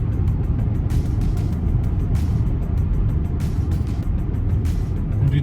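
An Xpeng G9 Performance car cruises along a highway. A steady low road and engine rumble runs throughout, with a few faint ticks and clicks above it.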